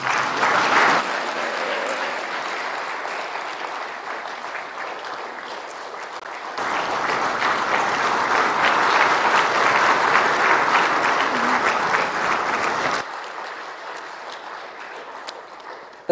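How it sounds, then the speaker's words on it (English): Audience applause follows a speech by the President of Tanzania to ambassadors. Sustained, dense clapping continues throughout, swelling louder in the middle before easing back. "please, another round of applause."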